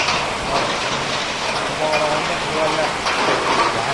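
Heavy rain driven by strong wind makes a dense, continuous hiss and patter, loud and close, steady for the whole stretch with a slight swell midway.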